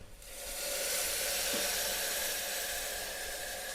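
A glass of water poured into rice in a pressure cooker while making khichdi, giving a steady close hiss and splash that swells quickly and holds for a few seconds, no talk.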